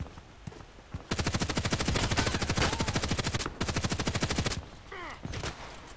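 Automatic gunfire in the shooter game Contract Wars: two long, loud, rapid bursts separated by a short pause, with quieter shots and clatter before and after.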